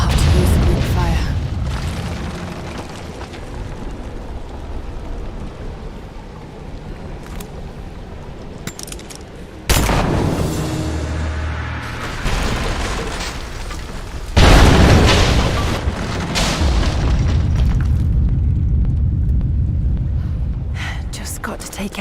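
Greek fire vessels burst in heavy booming explosions during play of Rise of the Tomb Raider on Xbox One S, loud and rumbling over a constant noisy game backdrop, with two big blasts standing out partway through.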